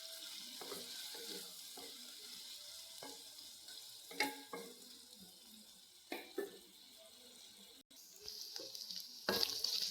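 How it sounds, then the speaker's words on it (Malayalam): Paneer frying in a pan over medium heat, a soft steady sizzle with intermittent scraping knocks of a spoon stirring, close and fairly quiet. "ചെറുതായിട്ടൊന്ന് മീഡിയം പരുവത്തിൽ വെച്ചിട്ട് ഇളക്കി കൊടുക്കണം"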